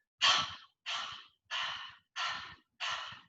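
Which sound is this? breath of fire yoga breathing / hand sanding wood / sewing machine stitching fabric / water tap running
breath of fire yoga breathing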